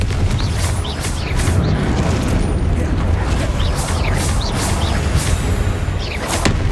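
A continuous heavy rumble of Confringo fire spell blasts and combat noise in Hogwarts Legacy, with repeated whooshing bursts over a dense, steady roar, loud throughout.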